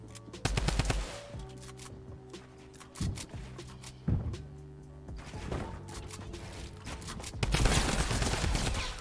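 A drum gun fires in a video game, long rattling automatic bursts of sharp rapid shots separated by short pauses, loud and close, with a final heavy volley at the end.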